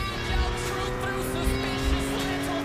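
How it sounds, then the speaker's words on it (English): Car engines in the Gran Turismo 5 Prologue racing game whine at a steady high pitch, a continuous, fairly loud drone with slight swells and no gaps. "The engine sounds are unique to each car"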